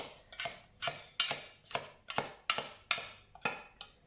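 A knife trims the dry edges of a chocolate cake baked in a Ninja Max, about ten crisp, rhythmic strokes that crunch and scrape through the crust, close and fairly quiet, with no talking.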